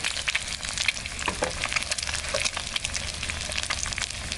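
An egg fries in a pan with a steady, close crackling sizzle throughout, while a person speaks briefly over it.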